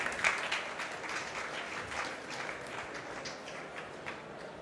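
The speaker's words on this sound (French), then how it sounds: "Merci de les applaudir bien fort." Audience applause for conference speakers at a VivaTech talk, a steady dense wash of clapping from a crowd that holds at an even level throughout.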